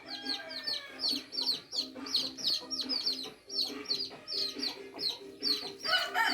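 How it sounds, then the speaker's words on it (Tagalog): A flock of chicks peeping constantly at a rural home, dense high-pitched chirps repeating in quick overlapping bursts, close and fairly loud, with clucking hens nearby. "Mga sisiw."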